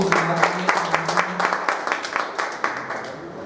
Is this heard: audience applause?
yes